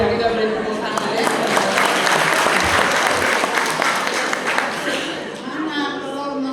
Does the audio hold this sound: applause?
yes